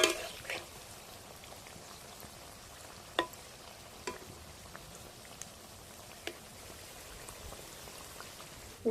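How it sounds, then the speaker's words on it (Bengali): Pumpkin sweets deep-fry in oil over low heat, a faint steady sizzle broken by occasional sharp pops and crackles. "হালকা আঁচে সময় ধরে উল্টে পাল্টে মিষ্টিগুলোকে ভেজে নেব"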